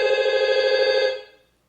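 A single electronic telephone ring sounds loud and close as one sustained buzzing tone, then cuts off and fades to silence.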